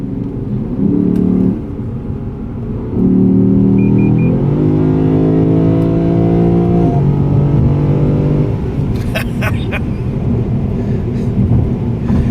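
A Lexus GS F sedan accelerates hard on a Texas road trip. Its loud, close engine note climbs in pitch in several rising pulls with brief shift dips, over a steady road rumble.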